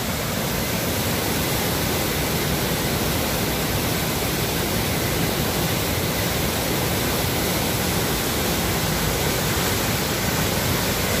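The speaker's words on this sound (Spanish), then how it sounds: "es impresionante el ruido que hace el agua" The flooded Serpis river between Villalonga and Beniflá roars over a dam, a loud, unbroken wall of rushing, churning water that holds steady throughout with no voices.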